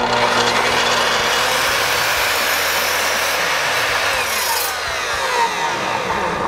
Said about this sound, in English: bring the blade up, start it and cut it